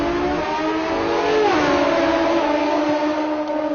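A Pro Stock drag racing car at a drag strip, its engine droning loud and close with a steady high-pitched tone that bends and rises once partway through.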